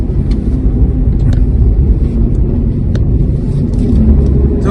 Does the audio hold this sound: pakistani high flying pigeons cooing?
no